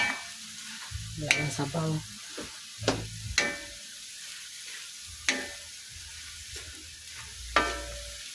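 Adobong sitaw, string beans cooked adobo style, is stirred in a pan: intermittent scraping and clinking strokes over a faint simmer, with a brief spoken remark.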